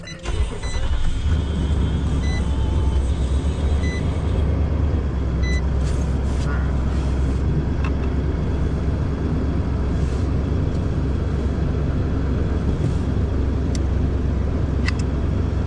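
A 2021 Nissan Titan pickup truck engine cranks briefly and then settles into a steady, close idle rumble that continues throughout, with a few faint clicks and no talking.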